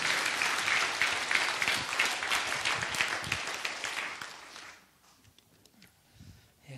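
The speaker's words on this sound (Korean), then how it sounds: "하나님께 영광의 박수 부탁합니다" A church congregation at a revival service applauds together, a full burst of clapping that carries on for several seconds before fading out abruptly into near quiet.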